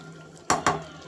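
Rice and fresh broad beans being stirred in an open pressure cooker before the lid goes on, giving two quick close scrapes and knocks of a spoon against the metal pot over a low background hum.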